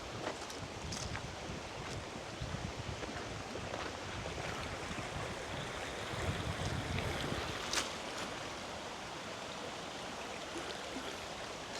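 A river flows beside an outdoor campsite, a steady broadband rush of water mixed with gusting wind, continuous and fairly close with no voices over it.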